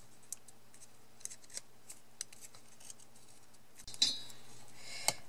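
Paper card being scored and creased along a fold line for a die-cut envelope box: quiet scattered small ticks and scrapes, then a brief louder rubbing crackle near the end, close and faint.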